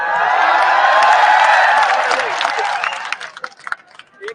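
A seminar audience breaks into dense, loud applause with whistles and cheering, then it thins out into scattered claps and a few voices as it fades.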